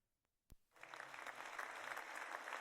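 After a brief sharp knock, a small group bursts into clapping that builds quickly and holds steady, a quiet spread of hand claps at the end of a wealth-building interview.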